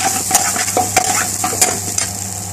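Rice being stirred with pure ghee in a pot for restaurant-style chicken biryani, with a continuous frying hiss and repeated utensil scrapes and clinks against the pan, close and fairly loud, with no talking.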